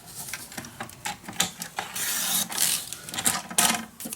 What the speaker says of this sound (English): So I'm just gonna cut this off, because it is a 3 inch.